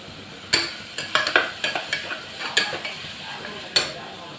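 Ingredients for mango rice sauté in a pan, with a steady sizzle under a series of sharp scraping and clinking strokes as a spoon stirs them. The strokes come at irregular intervals, close and fairly loud, and no one speaks.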